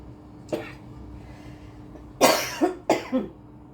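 A short cough, then a burst of four harsh coughs in quick succession, close by and loud.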